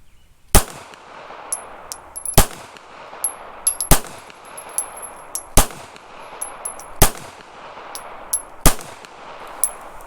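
Six sharp, loud gunshots from a Taurus Spectrum .380 ACP pistol firing Hornady Critical Defense rounds, spaced about every one and a half seconds outdoors, each followed by a short decay and faint metallic pings of falling casings.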